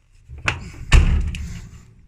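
A Renault Twingo being prepared for Oulton Park has its door shut, one quick knock followed by a heavier close thud, near and loud in an otherwise quiet moment.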